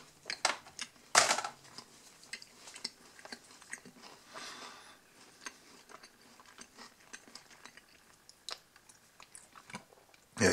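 Close, soft crunching as someone chews a crunchy cinnamon star cookie (Zimtstern), irregular bites and chews with quiet pauses between them.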